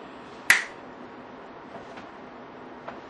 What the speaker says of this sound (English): All you have to do is snap your fingers now